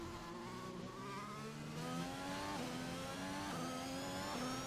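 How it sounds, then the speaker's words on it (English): A Formula 1 car in the F1 2021 racing game, flat out on throttle in wet conditions at Singapore, gives a steady buzzing engine drone with rising harmonics. The note wavers and stutters slightly, hinting at a misfire, and plays continuously with no talk. "I can just hear the car misfiring almost"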